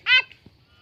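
A single loud honking quack from one of five newly bought ducks kept for raising, heard up close, followed by a faint short second call and quiet.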